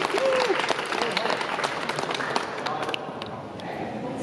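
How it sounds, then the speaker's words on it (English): Steady applause from an audience at a poetry reading in the National Gallery fills the whole stretch, a dense wash of clapping with some voices mixed in. "Round of applause"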